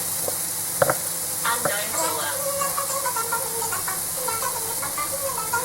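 Onion sizzles steadily in hot oil in a frying pan, with a couple of sharp utensil clinks near the start.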